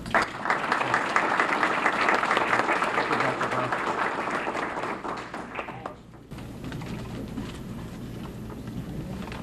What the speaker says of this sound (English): So maybe just another round of applause for Beverly.